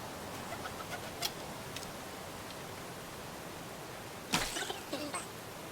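Pigeons in a video game give a few faint flutters and soft bird sounds over a low background hiss, with brief sharp bursts near the end.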